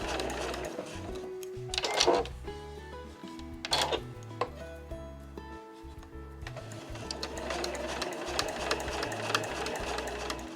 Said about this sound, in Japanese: 押さえを下げてそのまま続けて縫っていきます。